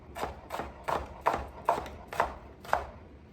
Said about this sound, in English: And then let's give it a nice chop.